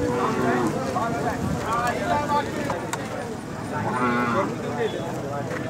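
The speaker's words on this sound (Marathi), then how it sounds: "तुम्हाला मी अजून चांगले चांगले बैल दाखवतो या ठिकाणी" Bulls at a crowded cattle market in Belha low and moo several times amid constant crowd noise, with people talking throughout.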